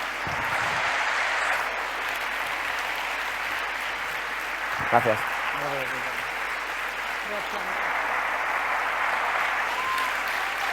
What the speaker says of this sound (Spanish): un fuerte aplauso para Julián, para Jorge y para Lola